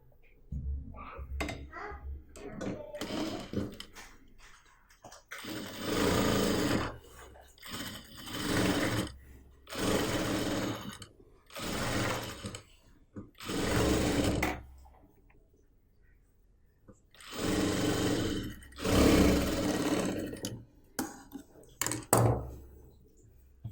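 A sewing machine stitches a kurti neckline in repeated bursts of a few seconds each, with steady whirring runs and pauses between them, close and moderately loud.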